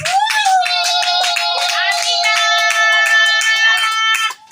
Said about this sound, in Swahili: Hebu mpigie Yesu kwa makofi tena mengine ya ushindi